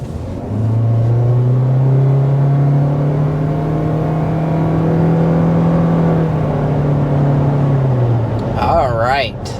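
A 2023 Toyota Corolla Cross hybrid with eCVT and all-wheel drive running, a loud close steady droning engine hum that holds for several seconds before easing off.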